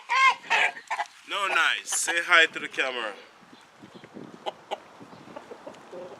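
Chickens cluck softly and intermittently near the camera, faint bursts scattered through the background, heard under and after a person talking.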